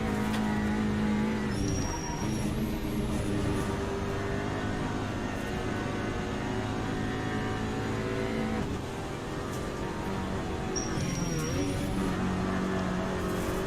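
Skoda Octavia Cup racing car in Assetto Corsa at Zandvoort, its engine droning steadily with tire squeal and gear-change shifts, struggling for grip under acceleration, continuous and moderately loud without talk.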